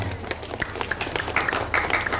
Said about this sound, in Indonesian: Tepuk tangan lagi buat Pak Lurah.